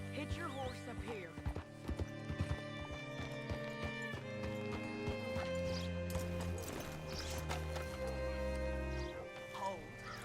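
Horse hooves clip-clopping in Red Dead Redemption II, a steady rhythm of distinct hoofbeats up close, running under a game soundtrack with spoken dialogue.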